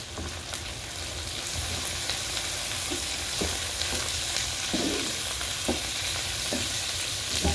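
Chili and onion stirred and frying in a pan, a steady close sizzle with scattered scrapes and clacks of a spatula against the pan throughout, no voices.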